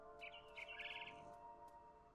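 Bird chirping in the video game What Remains of Edith Finch: a quick run of high, bright tweets over a steady ambient background hum, with no voices.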